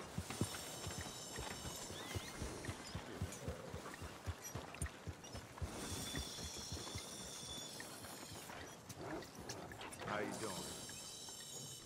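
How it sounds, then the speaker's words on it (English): Hooves clip-clop steadily from a horse in the Red Dead Redemption 2 video game, with occasional whinnies and tack rattles over a busy game soundscape, and a voice speaking now and then. "Good-looking horse there."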